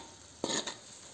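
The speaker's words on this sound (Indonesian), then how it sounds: "Airnya sudah mendidih dan tomatnya sudah matang atau layu, kita masukkan ikan asin jambal rotinya." Salted jambal roti fish dropped into boiling water with wilted tomatoes in a pan gives a short, bright splash and sizzle lasting under a second, close and alone.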